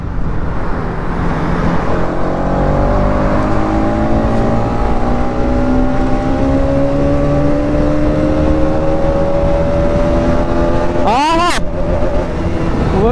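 A motorcycle engine roars and climbs in pitch as it accelerates toward top speed, echoing loudly in a tunnel, with a brief sharp burst near the end.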